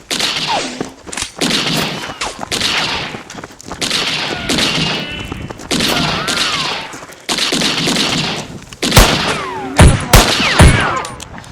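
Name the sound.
gunfire from someone shooting in the woods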